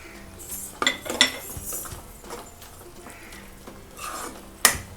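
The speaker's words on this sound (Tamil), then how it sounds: "இப்போ நான் நறுக்கி வச்சுருக்க கொத்தமல்லி சேர்த்துட்றேன்." Spoon stirring a makhana (fox nut) gravy in a metal pan after chopped coriander goes in, with a few sharp scrapes and clinks against the pan amid soft sloshing and stirring noise, close by.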